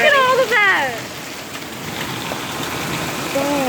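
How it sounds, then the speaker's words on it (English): Heavy rain mixed with hail falling outside during a lightning storm, a dense steady hiss and patter close by, with people talking over it at the start and end. "It is hailing so bad, and it's raining at the same time."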